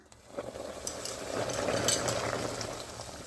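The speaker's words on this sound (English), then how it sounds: "I'm going to add half teaspoon of salt to our boiling water" Salted water rolls at a boil in a pot on the stove for goulash, a steady bubbling hiss that swells slightly and stays moderately quiet with no voices.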